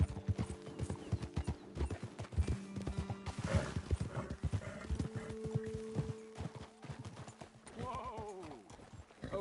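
Horses' hooves clip-clopping steadily in Red Dead Redemption 2, a brisk close rhythm of hoof strikes over ambient game music, slowing near the end as a horse snorts.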